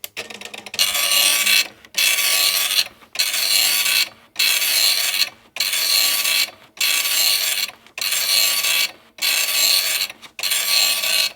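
An Epson RX-80 dot matrix printer running its self-test, eight loud buzzing print-head passes about a second and a half each, separated by brief pauses as the carriage returns, close and clear with no talking.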